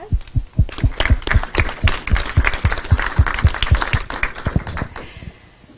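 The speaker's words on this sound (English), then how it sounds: "Round of applause." Audience at a 1 Million Cups startup presentation event in Madison applauding, a steady burst of many clapping hands that holds for several seconds and then tapers off.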